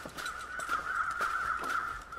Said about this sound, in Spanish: Porque estoy escuchando cuervos, tío.